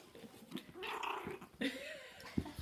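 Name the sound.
small dog growling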